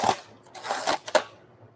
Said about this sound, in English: I have to admit that has a much nicer shutter sound